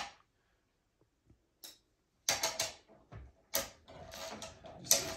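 Rear wheel of an Earthway 1001-B precision garden seeder being tightened, giving a few close, clicky mechanical ratcheting ticks in short bursts after a quiet start, with no talking.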